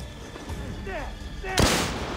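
Bombs go off in a bomb fight in the Assassin's Creed Revelations video game, with whistling swoops before a sharp, loud blast past the midpoint that decays over steady in-game background noise.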